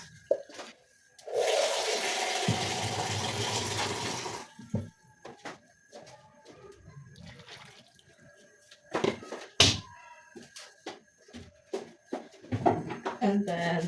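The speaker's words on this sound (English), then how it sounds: "So we need to add more water." Water gushes loudly into a pot of potatoes for a few seconds, then stops, followed by clinks, handling noises and quiet speech nearby.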